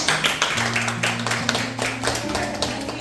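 A group of people clapping in a classroom during a teacher training session, quick irregular claps over a sustained low humming tone, lasting about three seconds.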